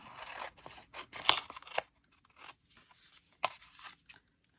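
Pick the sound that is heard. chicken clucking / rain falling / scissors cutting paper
scissors cutting paper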